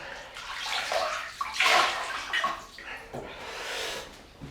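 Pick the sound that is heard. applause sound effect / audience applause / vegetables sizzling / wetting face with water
wetting face with water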